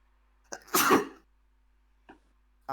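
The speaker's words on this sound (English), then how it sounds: "I gotta sneeze." A single sharp sneeze with a quick inhaled lead-in, close and loud, followed by quiet and a brief breathy sound.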